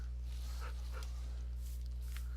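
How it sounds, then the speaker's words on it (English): A wolf-like dog in a vanilla Minecraft modpack video game gives soft barks and whimpers, a few short game-sound yips over a steady low electronic hum, with no talking. "Turns out we have a wolf, a dog, a little dog friend"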